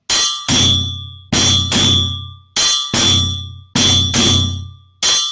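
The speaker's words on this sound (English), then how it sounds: "bell and drum, bell and drum." Bell and djembe drum played together in a repeating pattern, each ringing bell clang followed by a deep drum hit, loud and close, about four pairs over five seconds with decaying tails.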